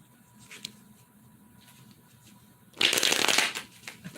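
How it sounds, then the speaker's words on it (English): A tarot card deck is riffled and shuffled by hand, one dense burst of rapid flicking card noise close to the mic, preceded by quieter soft rustles and taps. "Shuffle one more time."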